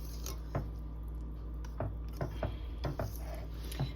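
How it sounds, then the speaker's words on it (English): Macaroni stirred into a thick mixture, close by, with soft squelching and scattered spoon knocks against the dish. "We're going to add the macaroni to it and then give that a good stir."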